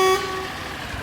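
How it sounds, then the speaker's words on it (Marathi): A truck horn in a truck-driving video game gives one short, loud toot at the start, then fades into a steady engine drone as the truck pulls up at a factory gate. "हॉर्न मारलाय आपण आता."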